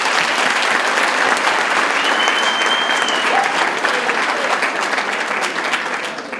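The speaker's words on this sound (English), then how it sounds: "I would actually like us to give a hand of applause" Sustained audience applause fills a hall at an alumni day gathering: steady, dense clapping from a large crowd that holds at full level for several seconds before easing slightly at the end.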